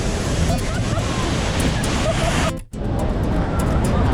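Iguazu Falls in Argentina, with a dense, continuous roar of rushing water and wind buffeting the microphone, and one brief dropout in the middle.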